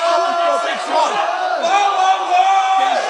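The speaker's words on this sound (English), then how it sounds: "Hong Kong crowd really showing their affiliation here with Kenny Young in the white tie" Crowd at a Hong Kong MMA fight yelling and cheering in support of a fighter, a dense, loud, continuous roar of many voices with rising shouts throughout.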